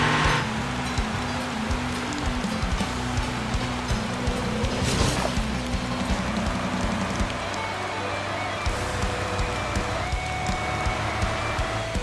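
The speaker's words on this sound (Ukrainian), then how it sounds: "Двигун зараз." A steady engine drone from a vehicle accelerating in a video game, a continuous low hum with a rushing, washy noise layered on top, holding at an even level throughout with no talk.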